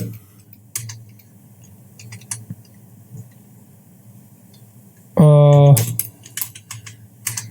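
Keyboard keys clicking in irregular bursts while entering stock figures in an MS Excel spreadsheet, fairly close, with a brief louder tonal burst partway through and a low background hum.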